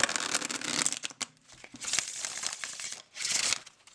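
An oracle card deck is shuffled in several quick bursts of papery riffling and crinkling, close and fairly soft, separated by short pauses.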